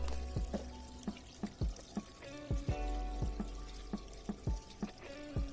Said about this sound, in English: The kitchen sink is on right now, as you can hear it. The water is coming down and nothing is leaking.